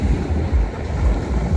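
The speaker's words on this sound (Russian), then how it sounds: "Волны чуть-чуть поменьше стали." Rough sea at Lazarevskoye on the Black Sea coast after a storm, with a steady heavy wash of surf and wind roar close to the microphone and no talking.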